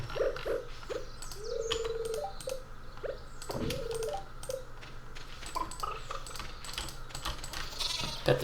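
Farm animals in the Stardew Valley video game, including chickens, a goat, a cow, a pig and a rabbit, give short bleats and chirpy cries one after another, with scattered clicky interface sounds.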